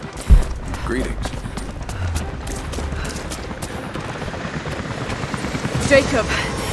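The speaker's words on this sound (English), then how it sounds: "helicopters are headed your way" Helicopters approaching in the Rise of the Tomb Raider video game, a continuous rotor rumble and chop under game sound effects, with a voice speaking over it.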